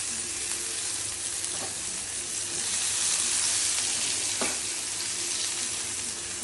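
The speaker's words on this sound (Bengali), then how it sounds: "এভাবে আদা আর কাঁচা লঙ্কা পেস্ট দিয়ে দিচ্ছি।" Ginger and green chilli paste sizzles and fries in hot oil in a pan for a brinjal curry, a loud, steady crackling hiss with a couple of faint stirring scrapes.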